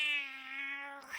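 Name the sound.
player imitating an angry cat's meow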